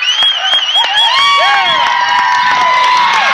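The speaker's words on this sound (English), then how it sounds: "That gets the crowd fired up." A crowd cheers and shouts loudly at a varsity girls' basketball game, SVHS against Hesston, with high whoops and yells layered in a continuous burst.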